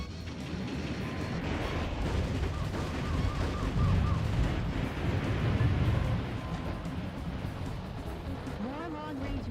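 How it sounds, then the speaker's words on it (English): Long-range missile strikes pound the battlefield in a mecha video game, a dense, continuous barrage of explosions and rapid gunfire-like blasts rumbling throughout, with a voice talking over the din. "More long-range missiles. These attacks will rage on unless you wipe out the launch source."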